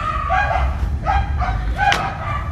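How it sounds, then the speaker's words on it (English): Dogs barking outdoors, three or four short barks spaced about half a second apart at moderate distance, with faint thuds between them. "Damn dogs."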